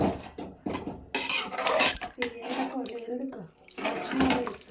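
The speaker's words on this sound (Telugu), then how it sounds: "ఒక 3 glass వాటర్ వేసుకొని బాగా మిక్స్ చేసుకోవాలి" Water poured into a pot of cooking pulihora and stirred, with splashing and scraping bursts at close range while someone talks over it.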